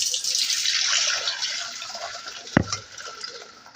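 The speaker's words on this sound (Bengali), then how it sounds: "এখন ছেঁকে নেব।" Boiled vermicelli is poured into a strainer as hot water drains, a close rushing splash that gradually tapers off, with one brief knock near the end and no talk.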